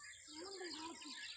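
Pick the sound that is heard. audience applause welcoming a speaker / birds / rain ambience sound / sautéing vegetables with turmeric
birds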